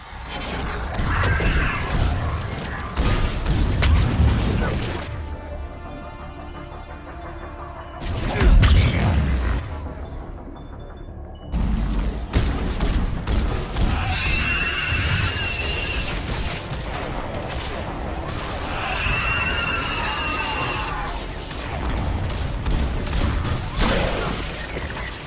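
Heavy missile strikes and bursts of gunfire in a Mass Effect 3 battle, with loud booming impacts and rattling shots repeating through the scene, separated by a couple of brief quieter gaps.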